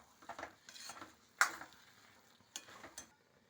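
Faint, soft scrapes of a spoon stirring vegetable upma in a pan after ghee goes in, a few separate strokes with a light sizzle and quiet gaps between them.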